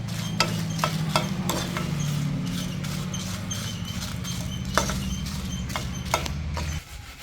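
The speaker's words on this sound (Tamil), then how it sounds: "35 மிளகாய் இருக்குதுல. இதையும் கொஞ்சம் மணம் பெற வறுக்க போகிறோம்." Red chillies dry roasting in a pan for garlic pickle, with repeated light scraping and clicking as they are stirred over a steady low hum, close and moderately loud.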